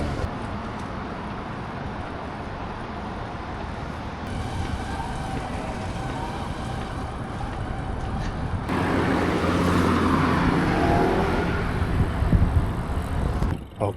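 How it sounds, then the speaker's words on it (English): Moscow city road traffic rolls past beside a cycling lane, a continuous rumble of passing cars and vehicles that swells louder in the second half, with no voices. "Traffic seems pretty bad though"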